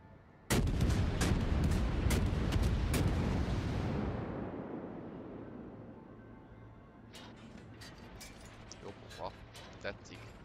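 Warship guns fire a rapid salvo of sharp booms in the World of Warships video game, followed by a long rumbling decay and a few scattered later impacts. Someone talks over the action.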